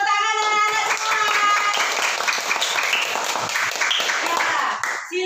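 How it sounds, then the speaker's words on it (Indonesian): Children in an Indonesian classroom clap together on cue from their teacher, a dense, steady burst of hand claps lasting several seconds, mixed with high young voices calling out over it before fading at the end. "Tepuk tangan anak-anak semua."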